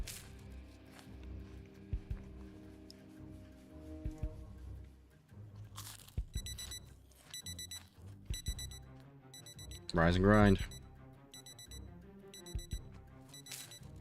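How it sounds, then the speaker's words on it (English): A kitchen stove timer alarm beeps in the zombie survival video game Project Zomboid, rapid repeating electronic pulses that continue through the passage, with crunching, chewing sounds and brief speech mixed in. "what's going off? Oh, the alarm in the stove!"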